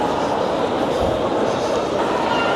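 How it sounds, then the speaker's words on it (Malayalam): Railway station ambience at Birmingham Grand Central: a steady, loud broadband rumble of a train and the station, with faint indistinct voices mixed into the continuous noise. "ഇതൊരു റെയിൽവേ സ്റ്റേഷൻ്റെ ഏരിയയാണ്."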